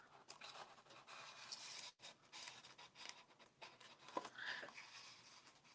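Decorative patterned paper peeled up slowly from a craft surface, giving soft, close scraping and rubbing with short pauses and a slightly sharper rip near the end.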